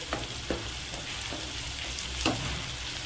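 Spice paste for lote fish curry sautéing in a pan, a low continuous sizzle with a few faint spatula scrapes, close and quiet.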